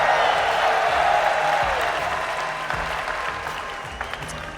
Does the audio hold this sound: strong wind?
no